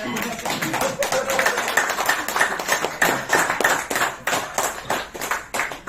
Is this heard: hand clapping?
yes